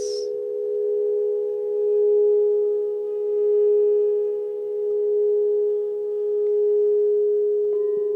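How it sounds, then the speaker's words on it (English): A singing bowl rings during a meditation: a single struck tone hums steadily and evenly for the whole stretch, with slow gentle wavering in loudness and nothing else around it. "vibration of the bowls."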